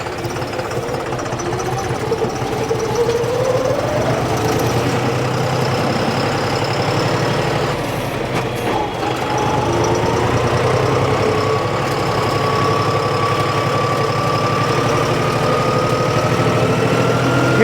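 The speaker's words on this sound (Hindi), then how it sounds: "अब वापसी मोड़ रहा हूँ दोस्तों ट्रैक्टर को" A John Deere tractor engine running on a road, a steady loud diesel drone with a low rumble and a rising whine as it gathers speed, heard close and continuous.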